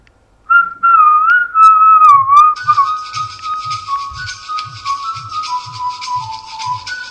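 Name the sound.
person whistling to trigger a phone finder app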